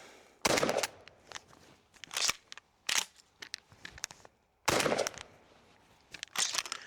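A Benelli M4 EXT shotgun is fired while being tested for cycling: several loud, sharp shots come at uneven intervals, each trailed by metallic clatter and handling noise, with quieter mechanical clicks in between.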